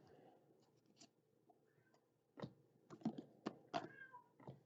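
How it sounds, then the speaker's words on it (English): A cat meows faintly indoors at a low level. Scratchy rustling sits around the calls, and a few short cries come in quick succession. "somebody's aggravating the cat"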